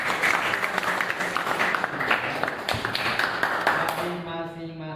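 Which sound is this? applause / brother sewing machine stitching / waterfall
applause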